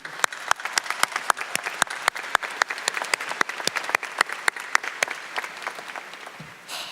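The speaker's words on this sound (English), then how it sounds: "Let's give them a round of applause." Sparse applause from an audience at a 2018 Spring Valley high school commencement ceremony, individual claps distinct and fairly steady for about six seconds before fading out.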